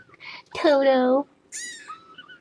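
Tiny bottle-fed shelter kittens mewing: one drawn-out, wavering cry followed by a short pause and thinner, higher squeaky mews, close and fairly soft.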